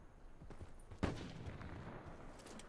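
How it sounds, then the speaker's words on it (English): Distant enemy gunfire in Call of Duty: Black Ops 4, one sharp crack standing out above low, rumbling battlefield noise, with fainter shots around it. "I hear him shooting"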